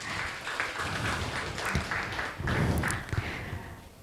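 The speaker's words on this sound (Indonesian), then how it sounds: "Kita sambut saja Kang Isep Pauji dan Ibu Tina dengan tepuk tangan" An audience applauds to welcome two speakers, Kang Isep Pauji and Ibu Tina, at an economic empowerment training session, a moderate burst of clapping from a seated crowd that thins out toward the end.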